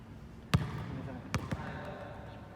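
A basketball bounces during basketball practice, three distinct thuds on a hard floor: one sharp bounce, then a quick pair close together, with quiet room noise between.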